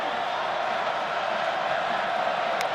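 A college football stadium crowd at an NC State versus Wake Forest game, near the student section, produces a steady, dense roar that stays loud and continuous throughout without distinct cheers.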